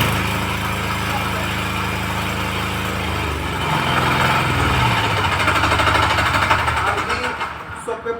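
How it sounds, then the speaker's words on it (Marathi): A power weeder engine on a farm starts up and runs with a steady, loud mechanical drone that shifts pitch midway and grows rougher and busier toward the end. "हा लिव्हर दाबल्यावर तुमचं हे मशीन चालू होणार आहे"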